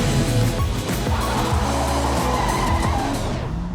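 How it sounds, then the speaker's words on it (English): Tires squeal as an Aztec Gold Ford Mustang GT SN95 convertible burns rubber, a sustained screeching skid over a rumbling engine, loud and close, fading out at the end. "Let's burn some rubber"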